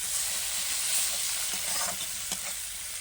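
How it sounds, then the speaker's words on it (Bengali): Chili and turmeric masala fries in a pan for a river crab curry, giving a steady close sizzle with a few scraping stirs of the spatula partway through. "আমি কিন্তু লঙ্কা হলুদ দিয়ে ভালো করে কিন্তু কষিয়ে নিয়েছি"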